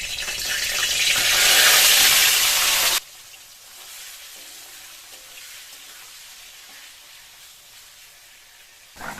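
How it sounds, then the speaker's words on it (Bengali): Marinated chicken hits hot oil with whole garam masala and bursts into a loud, bright sizzle for about three seconds, then settles into a steady, quieter frying hiss that runs to the end. "এবার ম্যারিনেট করা মাংসটা দিয়ে ভেজে নেব"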